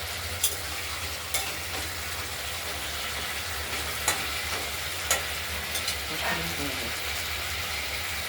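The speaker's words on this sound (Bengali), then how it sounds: "মশলাটা কষে গেছে, তেলও বেরিয়ে গেছে।" Ground spice paste fries in oil for a rohu fish curry with potato and tomato, giving a continuous broad sizzle with scattered clicks of a spoon stirring against the pan.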